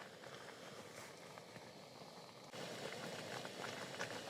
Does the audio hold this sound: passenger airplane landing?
no